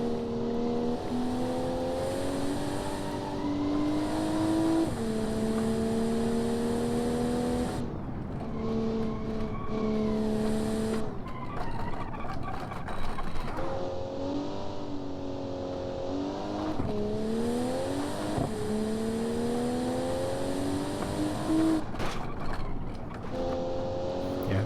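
Car engine in BeamNG.drive revving hard through very short first gears, rising whines cut off by quick shifts that repeat several times, loud and close with brief lulls between pulls.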